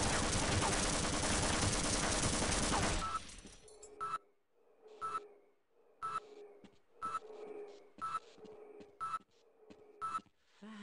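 Automated turrets in the PC game Half-Life fire a dense, loud burst of rapid gunfire for about three seconds, then continue as sharp, evenly spaced single shots roughly once per second.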